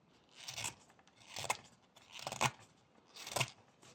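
Four evenly spaced crisp cuts of a knife whittling a small wooden snail carving, each a short scraping slice, close and quiet with no talking.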